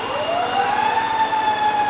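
An Arbor Fire Department fire truck siren wails at a Memorial Day parade, one loud, steady rising-and-holding tone that sits close and dominates over a continuous background.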